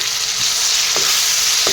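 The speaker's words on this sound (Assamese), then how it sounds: "বিলাহীখিনিও এনেদৰে অলপ ভাজি দিছোঁ" Tomatoes fry in a pan with a loud, steady sizzling hiss, with two brief scraping sounds of stirring.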